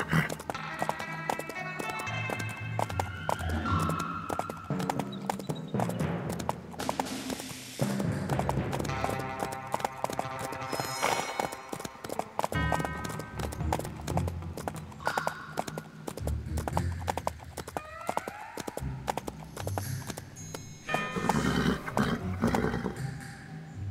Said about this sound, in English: use the movement controls to move the horse in any direction.